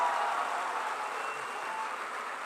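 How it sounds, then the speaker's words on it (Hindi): An audience at a Hindi poetry reading claps in a steady, even wash of applause that stays fairly faint and distant, fading slightly over a couple of seconds. "एक बार मुझे ताली बजाकर मन दीजिए"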